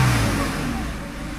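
A Mercedes E320 engine revs up while sitting in park, with loose intake air pipes, giving a brief, loud, close rising roar that eases off slightly toward the end.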